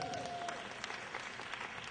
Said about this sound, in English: That was me trying to get some free applause.